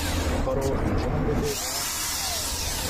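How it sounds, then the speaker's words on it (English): An electric drill powered through an inverter whirs steadily, loud and close, with a dense buzzing motor tone that shifts slightly partway through. "I connect this electric drill to the inverter"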